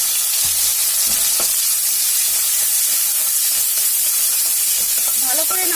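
Onions frying in hot oil with mustard seeds and green chillies make a loud, continuous close-up sizzle and crackle, broken by scraping stirs and a few small clatters toward the end, with no talking.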